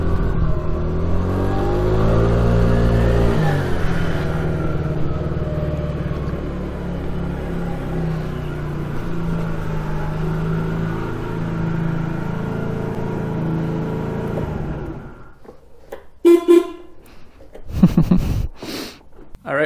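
A small moped engine salvaged from a scrap pile, running on its first ride, a loud close rumbling drone that revs up early, then settles and fades out near the end, followed by a few brief knocks and bumps.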